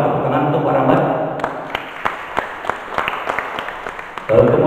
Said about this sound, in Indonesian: Tepuk tangan untuk Pak Rambat.